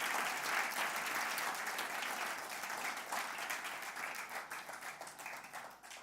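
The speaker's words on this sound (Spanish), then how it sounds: "Denle un aplauso al Señor por eso." Steady, dense applause from a church congregation during a Spanish-language service, loud and sustained for several seconds before tapering slightly.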